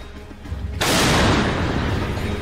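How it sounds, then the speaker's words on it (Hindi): A German artillery gun fires a shell toward Russian positions, a single loud, close boom that breaks in suddenly and rolls into a long, dense rumbling tail. "रूस के ठिकानों से आग के गोले बरसाती ये है जर्मनी की सबसे भरोसेमंद आर्टिलरी"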